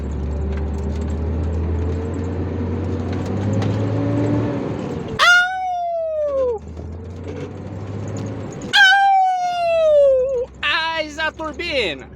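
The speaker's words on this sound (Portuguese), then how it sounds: "Turbina." A car's turbocharger with a fault lets out two strange falling whistles that slide downward in pitch, each lasting about a second, after a steady low engine rumble, followed by a few sharp higher squeals near the end.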